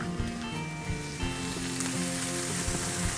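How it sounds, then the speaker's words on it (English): Skirt steak sears in a hot pan with a steady, soft sizzle and scattered light crackles, continuous and fairly quiet throughout. "We're gonna go ahead and get our skirt steak seared off really well"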